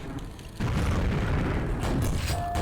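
In the video game Quake: Scourge of Armagon, a grenade explosion erupts as a loud, sustained low boom that starts abruptly and keeps rumbling to the end.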